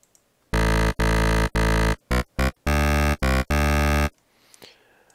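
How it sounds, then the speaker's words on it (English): An electro synth bassline, made in Massive, plays as a run of loud, buzzy, harmonically rich sustained notes broken by short stabs and gaps, then stops abruptly, with no talk. "Today we're going to be looking at an electro bassline that sounds like this."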